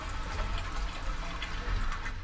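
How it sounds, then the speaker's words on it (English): A running shower in the compact en-suite bathroom of a first-class deluxe suite on a Nightjet sleeper train, its steady broadband water hiss close and continuous with no talking. "The shower took a bit of time to get going, but once it did, I found this to be highly refreshing"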